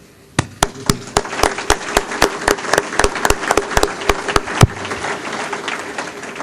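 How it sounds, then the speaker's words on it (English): Guests at a business awards evening applaud one another. Close, sharp individual claps land in a quick, uneven rhythm and grow into denser clapping as more hands join in. "For this, I see it fitting to applaud each other."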